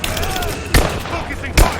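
Covering gunfire in the video game Rise of the Tomb Raider: two sharp, loud shots about a second apart ring out over a steady background of game ambience.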